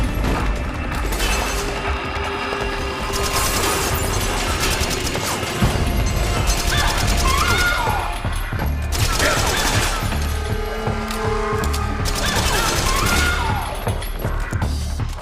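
Bursts of gunfire and explosions from the video game Metal Gear Solid 4, dense and continuous with mechanical clatter, loud throughout with occasional voice underneath.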